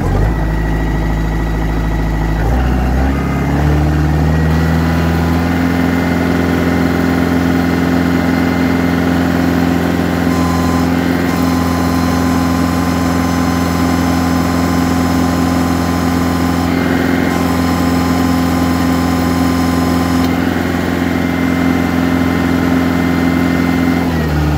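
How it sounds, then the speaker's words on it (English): A Mahindra 1640 HST compact tractor's engine starts and climbs to full RPM, then holds a loud, steady, droning hum that runs on without a break and without talk. "So we're going to start the engine. We're going to bring it up to full RPM."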